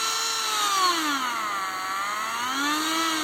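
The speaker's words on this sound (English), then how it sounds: "this is a Dremel, small battery, small unit, variable speed." A small battery-powered variable-speed Dremel rotary tool with a sanding disc whines steadily up close, its pitch dipping and rising again as the speed changes, with no voices.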